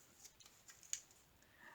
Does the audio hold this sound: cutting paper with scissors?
yes